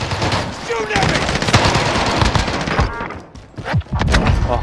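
Loud, rapid machine gun fire rattles in bursts during a Warzone match, close and dense, with a short lull before more shots near the end.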